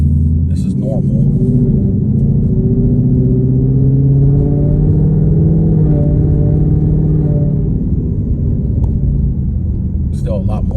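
A Ford Mustang GT with a Corsa Xtreme cat-back exhaust and Kooks catless long-tube headers rumbles from inside the cabin with the windows up, a loud, steady, deep drone that rises and falls over several seconds.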